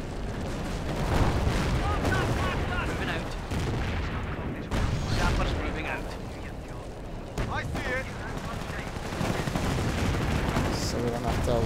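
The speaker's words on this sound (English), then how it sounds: "we'll just coat this thing with Piet rounds" Repeated PIAT anti-tank rounds fire in the Company of Heroes video game, a string of heavy booms and blasts over dense battlefield din lasting several seconds.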